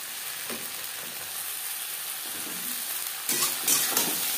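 Green beans (shim) hit a pan of frying onions, a steady sizzle with occasional stirring scrapes, then a louder hiss as the beans go in near the end.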